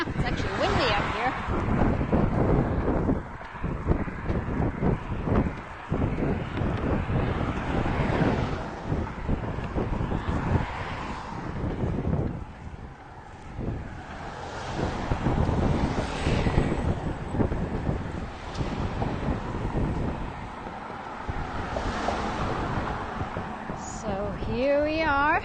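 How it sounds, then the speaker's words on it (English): Strong wind buffets the microphone throughout, with gusty rumbling and roaring swells, while a person talks intermittently over it, during a bike ride through the back streets of Key West near Garrison Bight. "It's actually windy out here."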